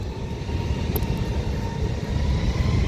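A Ryanair airliner on approach to Skiathos airport, a steady loud jet roar with a broad rumbling hiss and a faint whining tone, continuous throughout with no voices.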